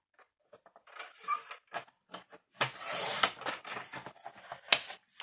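A piece for a box with a lid being cut, heard as close, irregular clicks and scraping bursts, sparse at first and then denser, with a sustained cutting rasp midway and no talking.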